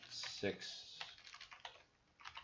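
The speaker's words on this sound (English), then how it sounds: "I'm totally typing in poorly." Quick, uneven clicks of typing on a computer keyboard come in bursts at moderate closeness, with a person talking over the keystrokes.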